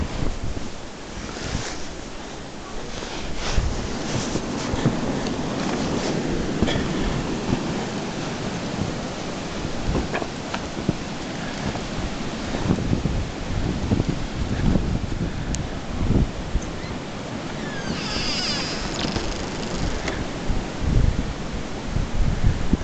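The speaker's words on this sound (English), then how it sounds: "The wind is whipping. It's at least 35, 40 mile an hour wind gusts." Strong wind gusts during a blizzard roar steadily outdoors around a house and yard with trees, swelling and easing in loud, rumbling waves with no talk.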